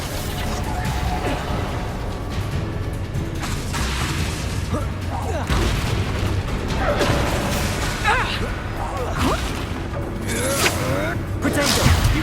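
Confringo blasting spells go off in Hogwarts Legacy combat, making repeated crashing bursts and whooshes through a busy, continuous battle din, with voices speaking over it.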